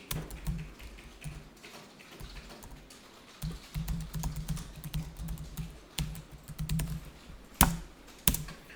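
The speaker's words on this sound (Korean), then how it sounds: "타자하시면 돼요" Typing on a computer keyboard during accounting software data entry, a steady patter of key clicks with a few louder sharp taps, close and alone.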